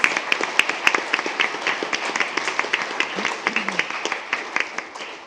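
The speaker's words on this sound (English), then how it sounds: "So another round of applause for Debbie and her staff and her students." A crowd at a board meeting applauds steadily, a dense patter of many hands clapping at moderate volume with no voices standing out.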